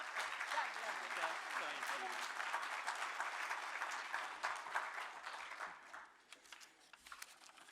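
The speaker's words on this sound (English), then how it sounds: "Y'all give a big round of applause for Wayne." Crowd applause at a western awards show, a large audience clapping loudly and steadily, then thinning and tapering off toward the end.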